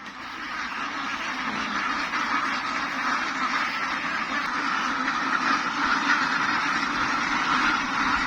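A dense flock of RTL ducks quacks continuously in an outdoor pasture, a steady overlapping chorus at moderate loudness with no pauses.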